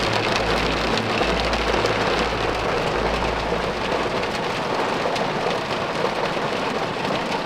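Heavy rain pours in a steady, dense hiss on a race weekend in Jönköping, with a low rumble underneath in the first half, continuous and close with no voices.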